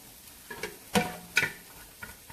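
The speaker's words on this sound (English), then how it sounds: "right now we're just sauteing the onions and waiting on that" Onions sautéing in a pan for spaghetti sauce, a faint low sizzle broken by a few soft clicks and stirring knocks of a utensil against the pan.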